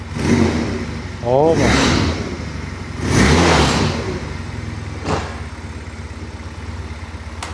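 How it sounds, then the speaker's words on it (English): A long-unused ATV engine, newly repaired after having no spark, cranks and revs in loud bursts before settling into a steady idle, with a person speaking briefly over it. "After sitting for years, no spark, we got her fixed, got her running"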